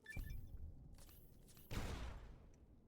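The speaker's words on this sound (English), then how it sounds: "Alright, more explosions." Explosions in the game Fallout New Vegas: a sharp blast near the start, a weaker thump around one second, then a loud broadband boom with a long, rumbling, hissy decay through the end.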